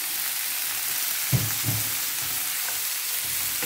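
Halved datterini cherry tomatoes and zucchini fry in a pan with a steady, bright sizzle, broken by a couple of soft knocks of stirring.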